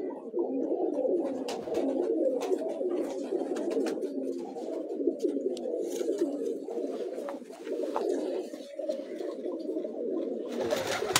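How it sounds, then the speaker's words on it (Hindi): A domestic pigeon on a rooftop coos close by in a steady, continuous, murmuring run of low rolling calls, with faint clicks and small noises in the background and no talking. "ये भाई साद अकमल खान के घर का कबूतर है"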